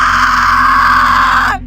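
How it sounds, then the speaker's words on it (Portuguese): A woman's loud, sustained scream used as an audiobook sound effect, one piercing shriek held steady for about a second and a half before cutting off abruptly, with no other sound around it. "O grito de Laura foi tão alto"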